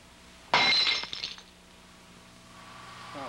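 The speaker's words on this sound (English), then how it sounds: "I feel like not just heard the glass break, but the glass tinkle down individual pieces." Glass shatters with a sudden loud crash, followed by scattered pieces tinkling and clinking down over about a second before quieting.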